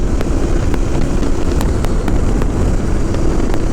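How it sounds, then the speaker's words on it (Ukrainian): A KTM 990 Adventure S motorcycle riding on a wet road. Heavy, steady wind roar dominates close to the microphone, with the engine's drone buried beneath it throughout. "Просто покажу, як мотоцикл їде, де їде, як він розганяється."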